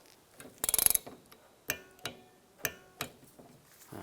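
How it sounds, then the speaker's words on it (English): A torque wrench on a wiper arm nut of a 2010-2016 Cadillac SRX gives a quick rapid ratcheting burst, then several separate sharp clicks and ticks close by. "Now I'm going to torque the nut to 89 inch-pounds."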